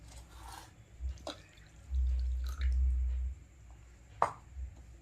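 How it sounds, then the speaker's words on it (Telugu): Water is poured into Mysore bajji batter: a few quiet drips and plops, then a heavier low splash lasting about a second and a half, and a final sharp drop, with no talk. "కొంచెం పక్కన తీసేసి నీళ్ళు పోస్తున్నాను"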